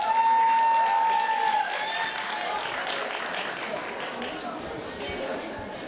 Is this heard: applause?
yes